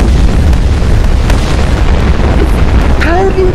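Roblox video game explosions make a dense, loud, continuous rumbling roar of booms, with a voice briefly rising near the end.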